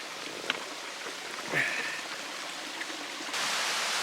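A small waterfall stream flows along a hillside trail on the Appalachian Trail, giving a steady, moderate rush of water with a brief splash or footstep near the middle.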